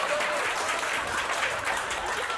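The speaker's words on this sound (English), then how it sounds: "give her a round of applause right there" A comedy club audience claps in a dense, steady round of applause, fairly close and sustained for the whole short stretch.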